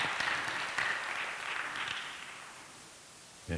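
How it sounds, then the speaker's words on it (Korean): A congregation claps during a church service, the applause soft and fairly distant, tapering away over a few seconds before one last faint burst. "큰 박수가 사랑과 우정의 사인인지 몰랐습니다"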